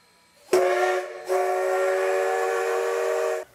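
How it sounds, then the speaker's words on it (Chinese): A heritage steam locomotive pulling out of Changhua station in Taiwan sounds its whistle: a short, loud blast, then a longer sustained one, close by against a quiet background. "乌头火车慢慢仔为彰化站出发"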